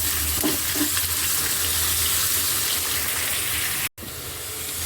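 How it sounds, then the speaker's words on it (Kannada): Chopped onions fry in hot oil with a loud, steady, close sizzle and faint stirring. The sizzle cuts out briefly for a moment, then carries on. "ಎಣ್ಣೆ ಕಾದಿದ ತಕ್ಷಣ ಈರುಳ್ಳಿ ಹೆಚ್ಚಿಟ್ಕೊಂಡಿದ್ವಲ್ಲ"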